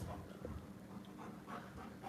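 Puppy panting close by, a quick steady rhythm of soft breathy huffs over low background noise.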